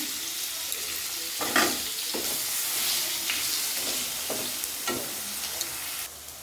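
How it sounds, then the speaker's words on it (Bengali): Potatoes fry in oil with cumin, giving a steady close sizzle broken by several scraping stirs of a spatula against the pan. "এই যে আলুটা দিয়ে দিলাম"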